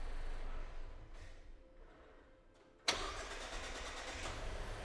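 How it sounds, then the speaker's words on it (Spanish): A car's engine is cranked and catches, firing suddenly after a quiet stretch of faint background noise, then settling into a steady, fairly loud idle running to the end. "Para y arranca, a ver si te deja arrancar."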